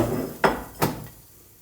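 Ceramic plates and dishes handled in a holiday rental kitchen in Greece, two distinct clinks of crockery knocking together over a faint background hiss.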